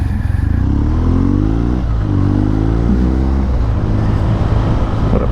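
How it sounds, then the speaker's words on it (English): A BMW R nineT Scrambler motorcycle rides along with a steady, loud engine drone. The pitch climbs through the gears in smooth rising sweeps, heard close with no talking. "What a pleasing bike these R9Ts are"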